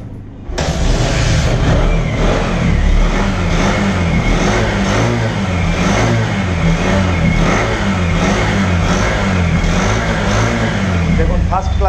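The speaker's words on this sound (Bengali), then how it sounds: "তো বাইকটির সাউন্ড আমি আপনাদেরকে দেখাই" A second-hand Bajaj Platina 100cc motorcycle starts up, then its engine runs loud and close with a steady throbbing beat and repeated revs for several seconds, while someone talks over it.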